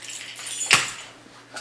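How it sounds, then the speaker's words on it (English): A bunch of keys jangles in one short metallic burst as it is lifted out of a Mulberry Effie hobo handbag, close and brief amid quiet rustling. "My keys,"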